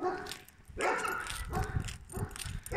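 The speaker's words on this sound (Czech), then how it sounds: "A ti psi jsou trochu uštěkané." Several dogs bark in quick bursts, about four sharp barks with yips, fairly close and loud, in a village street.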